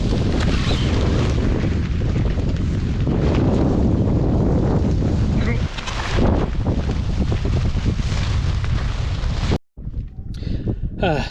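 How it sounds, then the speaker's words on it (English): Strong wind on a small island buffets the microphone in loud, roaring gusts, with a brief drop-out before the blustery rumble resumes. "it's a bit too windy to set the tarp up on this side of the island"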